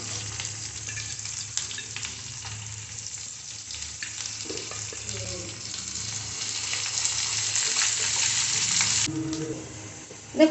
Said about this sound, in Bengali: এবার আমি দিয়ে দেবো পেঁয়াজ কুচি একটি বড় সাইজের পেঁয়াজ আমি কুচি করে নিয়েছি সেটা দিয়ে দিচ্ছি